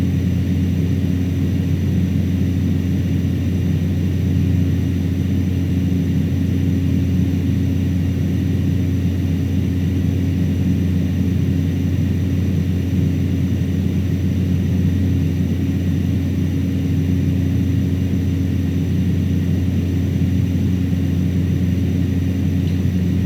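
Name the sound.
Cessna Caravan propeller aircraft in Microsoft Flight Simulator video game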